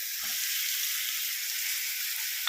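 Chopped lemon hits a hot pan for a Kerala lemon theeyal, giving a loud, steady sizzle with a brief low stir or thump near the start.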